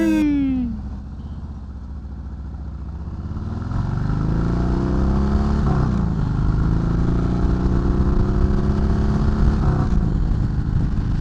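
A motorcycle on a spring commute home: after a short idle the engine revs up and holds a steady, loud drone with gear-change pitch sweeps, close by and alone.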